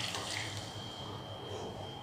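Water poured into a pan of mixed vegetable curry seasoned with garam masala, a steady close splashing wash with no break across the short stretch.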